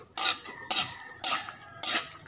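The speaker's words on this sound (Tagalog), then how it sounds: "Haluin natin." Utensil scraping in a pan while buko canton with shrimp and chicken is stirred, four distinct bright scrapes in an even rhythm, close and fairly loud with no talking.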